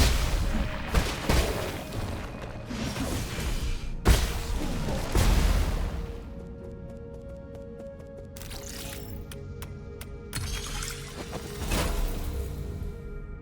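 Several deep booming blasts go off in quick succession in the video game Nine Sols, then a quieter stretch with scattered clicks and a faint later rumble.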